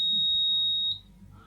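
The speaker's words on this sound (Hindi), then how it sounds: "लाइट पड़ रही है तो उस कंडीशन में अलार्म बज रहा है और LED भी ऑन है" A light-activated night security alarm emits a steady, piercing electronic buzz that holds for nearly a second and then cuts off, leaving quiet room tone.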